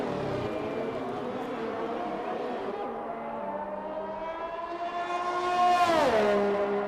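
A Red Bull race car in a racing video game runs down the straightaway at Bahrain with a sustained, rising engine whine that climbs in pitch and then swoops down as it passes.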